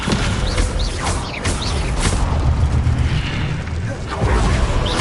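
Descendo spell cast in Hogwarts Legacy, a dense roaring magical slam with crackling whooshes and low booming rumble filling the whole stretch, continuous and loud with no clear pauses.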